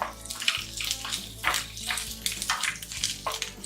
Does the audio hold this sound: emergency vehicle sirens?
no